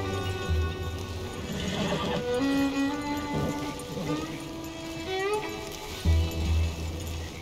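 Horse in Red Dead Redemption 2 whinnying loudly and close, with clip-clopping hooves underneath and a brief voice in the game's background.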